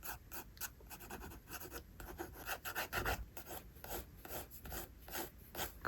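A pencil sketches the outline of hair on paper in a portrait drawing, quiet close scratchy strokes repeating in an uneven rhythm throughout.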